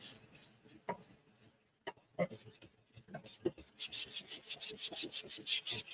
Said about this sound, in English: I'm going to take a piece of 150 sandpaper and I'm going to scuff this